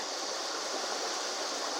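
Oak Creek flowing at Red Rock Crossing in Sedona, Arizona, a steady broadband rush of moving water that holds even and fairly soft for the whole moment, with no talking.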